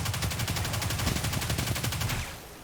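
Sustained rapid gunfire in the video game Destiny 2 as enemies below are cleared from a high position, a steady stream of shots with heavy low rumble that fades out at the end.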